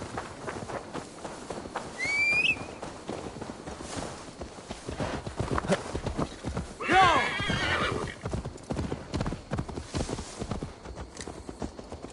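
A horse in Assassin's Creed Valhalla walks with steady clip-clop hoofbeats, whinnying once early and again more loudly midway, with a short whistle and bits of game speech in the background.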